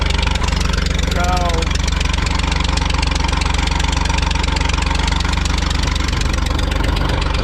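An old tractor engine idles steadily after a cold start, a close, continuous low chugging with an even rhythm, and a brief voice heard early over it.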